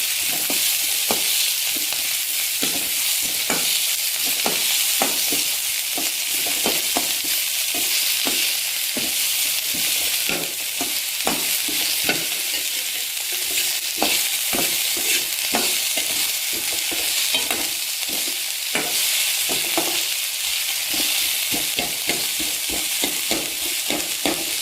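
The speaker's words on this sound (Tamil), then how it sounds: "வெங்காயத்தை நல்லா வதக்கிக்கோங்க" Onions sautéing in a pan for a spicy layered snack, with a continuous bright sizzle and repeated scraping stirs at a steady rhythm, close and alone without voices.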